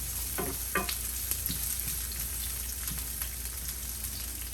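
Onions frying in a pan over slightly lowered heat, with a gentle steady sizzle and occasional crisp scrapes and clicks as they are stirred.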